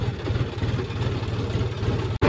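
A tractor engine runs under heavy load while stuck hauling a loaded trolley, a steady low chugging drone that holds loud and even before a sudden brief cutout near the end.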